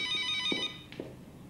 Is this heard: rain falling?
no